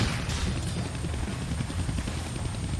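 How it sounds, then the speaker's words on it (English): A helicopter in the Deadpool video game thrums with a continuous low rotor chop and broadband roar, loud and steady throughout, with no talk over it. "I can't kill that chopper with my guns."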